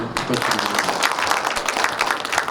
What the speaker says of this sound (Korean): 그 저 준비위원님 분들께도 큰 박수를